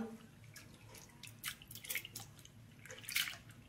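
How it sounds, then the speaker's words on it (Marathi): Soaked lentils rinsed in water for an aappe batter: faint, irregular drips and small splashes with light sloshing, quiet and close, no talking. "हे धुवून घेते आणि तुम्हाला दाखवते."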